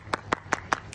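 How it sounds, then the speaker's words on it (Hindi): Five evenly spaced single hand claps, slow and steady, fairly close and moderately loud, at a university sports week gathering, with no talking over them. "तालियां"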